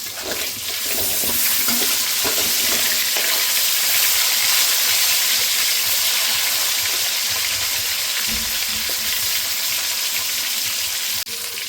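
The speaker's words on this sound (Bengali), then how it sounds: "দেখুন তেল গরম হয়ে গেছে, এবার মাংসগুলো ভেজে নেব" Chicken pieces fry and get stirred in hot oil for a chicken curry, a steady loud sizzle with occasional scraping and bubbling that runs almost unbroken.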